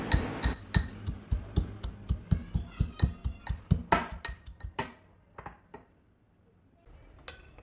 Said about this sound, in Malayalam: ഇഞ്ചിയും വെളുത്തുള്ളിയും നന്നായിട്ട് കുത്തിയെടുക്കാം